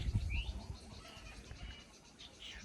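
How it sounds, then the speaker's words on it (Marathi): Birds calling outdoors, a few short chirps and coos scattered over low background rumble, fairly faint and distant with no talk. "लय छान पक्ष्यांचे आवाज येतात बरं का इथं बसल्यावर"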